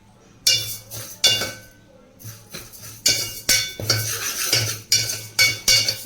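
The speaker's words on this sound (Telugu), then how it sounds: "పెసరపప్పు అయితే కొంచెం ఫ్రై అయితే చేసుకోవాలి." Moong dal stirred and fried in a pan, a metal spoon scraping and clinking against the pan in an irregular, close series of sharp knocks and scrapes.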